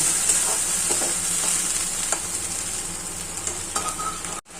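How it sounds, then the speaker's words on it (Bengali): Onion, ginger and garlic paste frying in hot oil for a small-fish curry: a loud, continuous close sizzle with light stirring scrapes, cutting off abruptly at the end. "এবারে আমি পেঁয়াজ, আদা, রসুন পেস্টটা করেছি এটা দিয়ে নেব। ভালো করে কষিয়ে নেব।"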